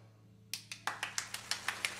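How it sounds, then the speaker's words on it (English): Faint applause at a Christmas jubilee show, a few crisp claps in a quick, regular rhythm starting after a brief quiet stretch, over a low steady hum. "Let's hear a little applause."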